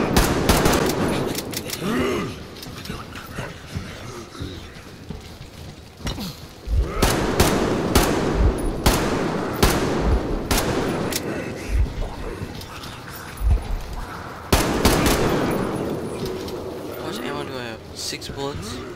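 Bursts of gunfire in the video game Metro Exodus, with several close, sharp shots clustered in the middle of the stretch, while someone talks over much of it.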